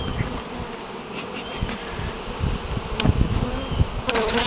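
Honey bees swarm around an open hive during a honey harvest, a dense, continuous buzzing close by, with individual bees droning past and the hum rising slightly toward the end.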